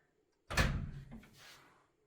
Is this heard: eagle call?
no